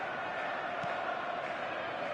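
A stadium crowd in the football video game PES 22 sends up a continuous broad roar of cheering and chanting, dense and steady throughout.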